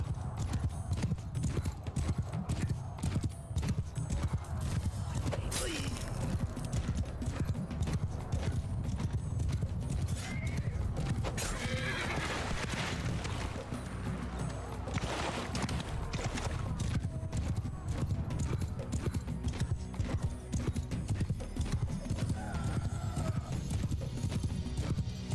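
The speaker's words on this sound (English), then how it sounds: "Oh, the extra maneuver is so nice on the horse." In the video game Mount & Blade II Bannerlord, a horse gallops with a rapid, steady clip-clop of hooves and neighs now and then, close and loud, amid battle clatter and a few spoken words.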